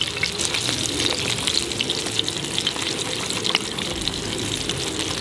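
Freshly caught fish cooking over an outdoor fire, a steady close sizzle and crackle with small pops, fairly loud and without speech.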